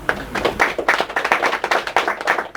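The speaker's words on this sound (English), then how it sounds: "Give yourselves a big round of applause." A nearby audience applauds with brisk, busy clapping that stays fairly loud and even for a couple of seconds.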